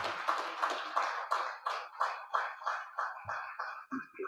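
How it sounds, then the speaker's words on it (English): Clapping in an auditorium for summit award winners, heard as a steady rhythmic series of about a dozen distinct claps at a brisk, even pace, fairly close, with no talk over it. "can I have a resounding applause for the MEDENGAGE winners?"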